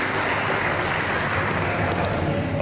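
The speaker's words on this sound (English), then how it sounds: "let's just give them all a round of applause" An audience at a community candidate forum claps in a thick, continuous wash of applause, with no gaps and a faint murmur of voices underneath.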